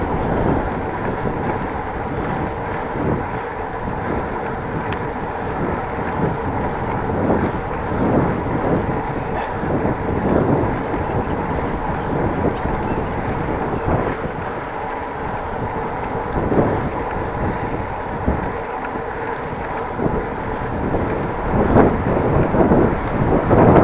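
Head-on wind blasts steadily into the microphone of a cyclist riding along the N360 Rijksweg near Groningen, a constant loud rumbling roar with gusty swells and no talking.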